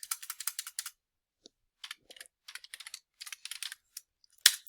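Light clicking on a computer keyboard comes in quick bursts of keystrokes separated by short pauses, close and quiet, with one sharper click near the end.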